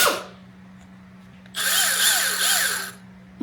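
A battery-powered cordless drill revs up loudly after a quiet stretch, holding a steady whine with slight pitch wobbles for under two seconds before stopping, with a low hum underneath.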